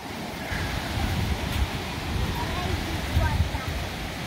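Steady rush of flowing water at the Lola ya Bonobo reserve in Kinshasa, a continuous broadband wash that stays moderately loud and even throughout with no distinct events.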